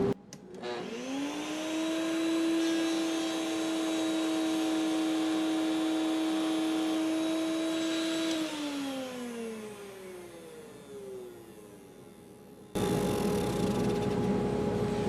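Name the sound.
woodshop dust collection system running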